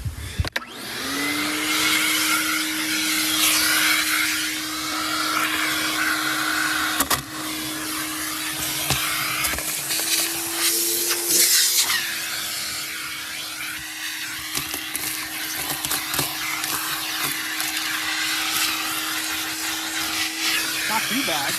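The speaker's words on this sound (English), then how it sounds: "I'm just gonna vacuum some of this stuff up real quick" A vacuum cleaner runs steadily for the full stretch, sucking up crud inside an old 1984 Pontiac, its motor whine holding a constant pitch with brief rattles and knocks as the nozzle moves, and no talk over it.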